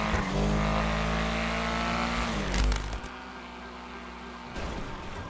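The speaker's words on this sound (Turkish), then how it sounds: "Ama bu araba çok yavaşlıyor lan bunlardan." A car engine drones in a roleplay driving game, a loud, sustained, steady tone that shifts pitch as the car slows, then drops to a quieter rumble with a short burst near the end.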